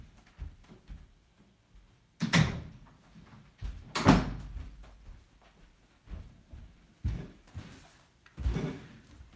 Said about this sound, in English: I'm going to close my doors again.